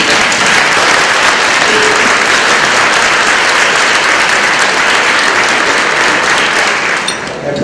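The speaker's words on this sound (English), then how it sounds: "again, give a round of applause to the young lady" Banquet audience at an NAACP Black History Month awards dinner applauding after a poem, loud, dense, sustained clapping from a large room that carries on steadily and begins to thin out near the end.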